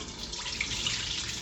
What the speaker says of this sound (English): just pour the liquid